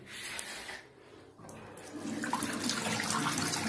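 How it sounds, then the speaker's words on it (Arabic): Water runs from a bathroom tap in a furnished apartment in Alexandria, a steady nearby hiss that eases briefly, then surges fuller and louder as the flow strengthens. No one speaks. "ضغط الماء كويس جدا."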